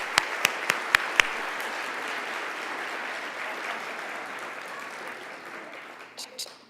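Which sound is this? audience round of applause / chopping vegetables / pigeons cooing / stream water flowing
audience round of applause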